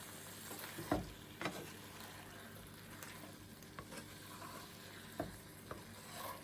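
Ackee and saltfish stirred gently in a pot: quiet sizzling underneath, with a few soft spoon knocks and scrapes against the pot, no talking.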